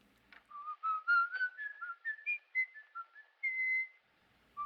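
Someone whistles a tune on the soundtrack of the 1931 film M, a clear solo melody of short rising and falling notes over near silence.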